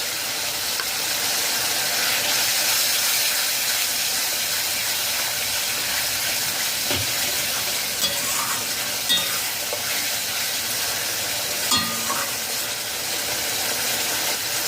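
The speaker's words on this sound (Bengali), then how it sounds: "গুঁড়ো মশলা দিয়ে তিন মিনিট কষিয়ে নিয়েছি কালো সর্ষে বাটা দিয়ে দিয়েছি" Ground spices and black mustard paste being stir-fried for a fish curry, a steady hiss and sizzle throughout with a few faint scraping stirs, no speech.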